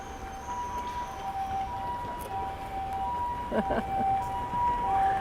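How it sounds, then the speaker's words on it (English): A steady wailing ambulance siren passes, holding a sustained tone through loud street noise, trams and traffic rumble in Hiroshima, Japan, with a voice briefly audible partway through. "And the ambulance going down the side here."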